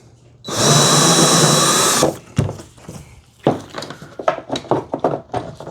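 Power drill enlarging a hole in an Old Town Ocean Kayak Malibu PDL hull for a fish finder transducer, whirring loudly and close for about one and a half seconds, followed by handling clatter and knocks.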